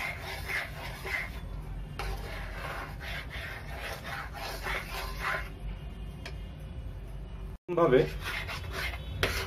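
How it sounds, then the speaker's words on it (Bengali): A spoon scrapes continuously around a pan while a gulab jamun mixture is stirred over medium-low heat, rhythmic rasping strokes with a brief pause, and a voice speaks briefly in the clip. "কন্টিনিউ এটা নাড়তে হবে, কন্টিনিউ নেড়ে নেড়ে যেতে হবে"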